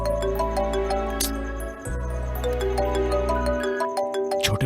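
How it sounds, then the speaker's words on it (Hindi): A phone ringtone plays a repeating electronic melody, loud and close, with no voices over it, in a dramatic household scene from a Hindi-dubbed South Indian film. "सॉरी प्रताप, तुम्हें इस वक्त फोन करके डिस्टर्ब किया"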